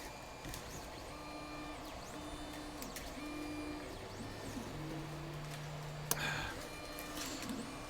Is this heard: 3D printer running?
yes